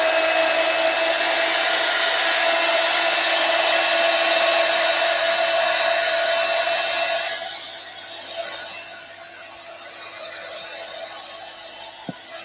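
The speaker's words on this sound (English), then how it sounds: "I'm going to turn my heat gun on for a second just to try and give this Lindy's a bit of a chance to dry." A heat gun blows steadily and loudly for about seven seconds to dry stamping ink on a craft project, then switches off, leaving faint room noise and a small click.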